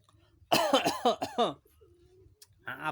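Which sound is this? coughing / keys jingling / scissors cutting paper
coughing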